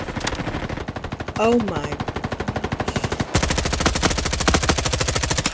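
A gun fires in rapid automatic bursts in the Roblox video game, the shots loud and close in a steady rattling rhythm, briefly broken by a short exclamation from a voice.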